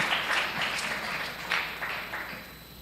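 A crowd at a county fair junior goat show claps in steady applause, fairly soft and somewhat distant, continuing through the whole moment.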